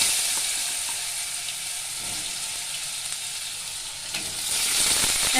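Cut potatoes frying in hot oil with cumin seeds in a pan for a spinach dish, a steady, loud, close sizzle with faint stirring scrapes, swelling slightly at the end.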